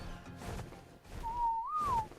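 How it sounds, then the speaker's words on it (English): Player whistles a command to a tamed creature in Ark: Survival, a single clear rising tone lasting under a second, heard over faint game background noise. "You gotta whistle, tell him to go passive."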